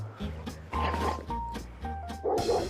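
A dog barks aggressively at other dogs at a dog playground, a few sharp, close barks in quick bursts among other canine noise.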